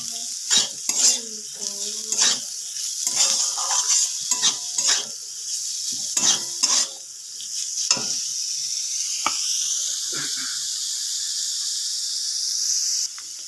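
Chopped onions with minced garlic frying in a pan, a soft sizzle broken by repeated metallic scrapes and clinks of a stirring spoon, the hiss growing steadier toward the end, no voices.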